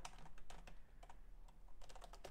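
Typing on a computer keyboard while entering code, a steady patter of close keystrokes over a low background hum, with short clusters of keys and a few brief pauses.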